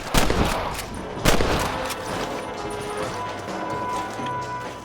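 Gunfire in the Western video game Red Dead Redemption, two loud sharp shots near the start and another about a second later, followed by a steady rumbling battle ambience with no talking.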